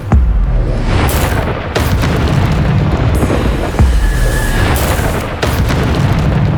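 Spell blasts from the Bombarda charm in Hogwarts Legacy boom loudly in a dense, continuous combat mix, several heavy explosive thuds and bursts coming in close succession.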